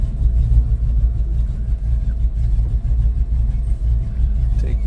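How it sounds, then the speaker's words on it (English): A 1972 Ford Mustang Mach 1 with a newly fitted loud muffler drives along, its engine giving a steady, deep rumbling exhaust drone that swells slightly under light acceleration, heard from inside the car with no talking. "New muffler's pretty loud, but I guess that's why I bought it."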